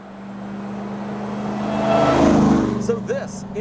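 A 2027 RAM 1500 TRX SRT pickup truck, 777 hp, drives at a racetrack, its engine note rising steadily to a loud, close roar and then easing off, with a voice starting to speak near the end.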